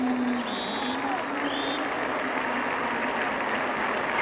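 A large outdoor crowd in Bucharest applauds the golani of 1989 and 1990, steady clapping blended with crowd murmur and a few faint whistles or shouts throughout.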